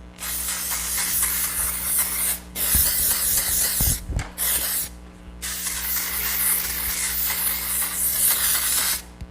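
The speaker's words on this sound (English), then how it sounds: "if you feel like you have too much oil in your hair, dry shampoo." Dry shampoo sprayed onto hair in bursts, a close, loud aerosol hiss in two long blasts with a short break and a few faint clicks between them.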